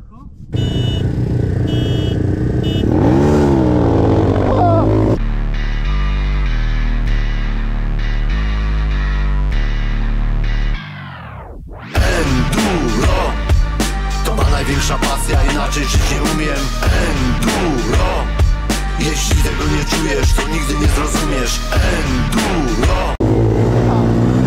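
A KXD 125 and a Raptor 250 motorcycle race, first a steady engine drone with shifting tones, then after a brief dropout a louder, choppier run of revving and clattering, with some talk mixed in.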